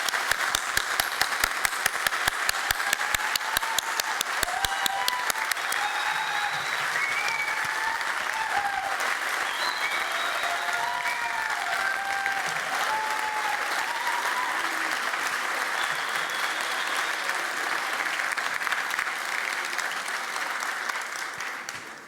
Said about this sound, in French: Je leur dédie cette soirée et je vous propose aussi de les applaudir.